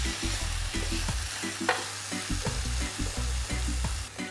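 Mixed vegetables sizzle steadily in a hot pan for tartlets, with repeated scraping stirs of a utensil against the pan forming a rhythmic pattern over constant close frying noise; no talking.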